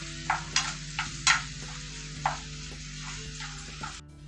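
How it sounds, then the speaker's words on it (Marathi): Ginger-garlic paste stirred into sprouted moth beans frying for a Malvani-style dry curry: several sharp spoon scrapes against the pan over a low steady sizzle and hum, close and without talk. "लगेच त्याच्यामध्ये पाव चमचा आलं लसूण पेस्ट टाकू ते पण मिक्स करून घेऊयात"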